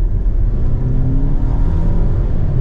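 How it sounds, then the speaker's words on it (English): A 2023 Dodge Hornet GT AWD accelerating at full throttle in normal mode, heard as a steady, loud low engine rumble and whir that builds continuously from inside the cabin with no talking. "Let's just keep it in the normal mode though and pedal to the floor."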